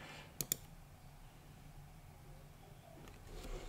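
Two quick, sharp computer mouse clicks land close together near the start, then a quiet room with faint background hiss and no talking.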